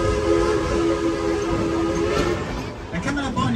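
The Dollywood train rumbles steadily out of town, with a sustained whistle tone held for a couple of seconds over the running noise, loud and close, and no voice over it.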